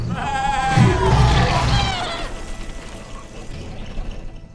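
Goat in the video game Struggling gives a loud, wavering bleat up close, then the sound fades into quieter ticking game noises.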